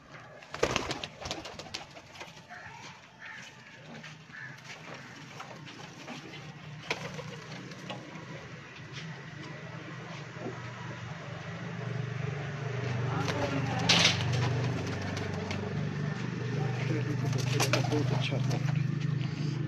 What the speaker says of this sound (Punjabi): ਬਹੁਤ ਹੀ ਆਊਟ ਕਲਾਸ ਕਬੂਤਰ ਹੈ ਜਨਾਬ